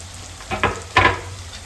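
Food frying in a pan gives a few short, close sizzling bursts, about three quick crackles over a faint steady background.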